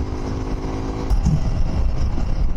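A motorcycle ridden along a road gives a humming engine tone for the first second, then gusty wind buffeting and road rumble take over, close and loud.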